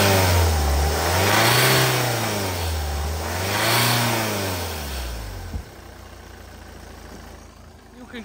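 A Ford diesel engine with a diesel particulate filter fault revs hard as the accelerator is pressed, rising and falling in two loud sweeping surges before easing back to a steady idle with a faint hiss.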